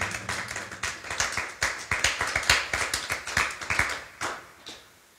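A church congregation clapping together in a fast, rhythmic, fairly loud burst that fades out at the end.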